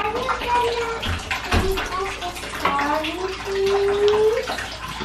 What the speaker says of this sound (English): Gargle salt water.